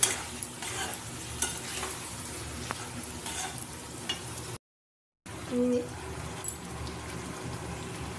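Jackfruit and prawn curry with potatoes sautéing in a pan, a soft continuous sizzle with stirring scrapes, broken by a short silent gap partway through.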